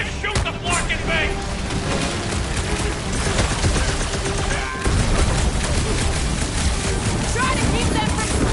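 Gunfire in the video game Marvel's Guardians of the Galaxy on PS5, a dense continuous barrage of shots and blasts mixed with rushing wind-like noise, with character voices talking over it.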